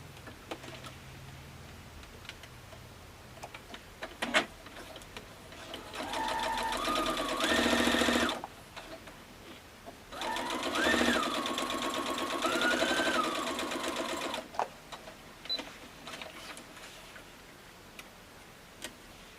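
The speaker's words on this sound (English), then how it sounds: "Now we're going to sew this with a 1/4 inch seam allowance." Sewing machine stitching a quarter-inch seam on fabric pieces for a diamond tree skirt, running in two steady bursts of several seconds each with a brief pause between, fairly close and clear with no talk.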